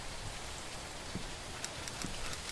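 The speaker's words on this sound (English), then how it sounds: "With this rain, I don't think we'll have any more customers today." Rain falls steadily as a soft broadband hiss with scattered droplet taps, faint and continuous throughout, with no voices.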